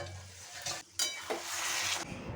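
Kochu shak is stirred in a pan with mustard, green chili paste and grated coconut, a soft sizzle under brief scraping strokes of a spoon, close and quiet.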